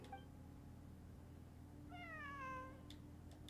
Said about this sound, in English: A cat? I think there was one earlier, too. I'm not hearing things. It really is a cat.